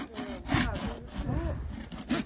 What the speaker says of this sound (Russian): Пропил под углом – это то еще удовольствие.